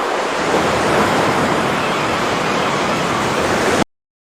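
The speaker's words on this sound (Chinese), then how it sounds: "使用自定义提示词海鸥和海浪" AI-generated seaside effect of ocean waves washing steadily in a loud, unbroken roar, ending abruptly; seagull cries are not distinct above the surf.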